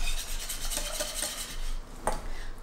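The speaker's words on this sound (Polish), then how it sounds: "I również energicznie mieszamy." A spoon scraping and stirring vigorously around a pot of heating gelatin mixture, a busy rasping swish with small metallic clinks and a sharper knock near the end, close up and without talk.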